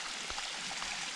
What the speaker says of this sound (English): you'll encounter this awesome little mini waterfall